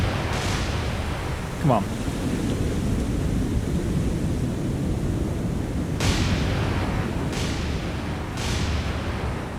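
Naval guns fire in the War on the Sea game with a deep, booming rumble. One blast comes near the start and a cluster of three sharp reports follows later, over a constant low roar while someone speaks briefly.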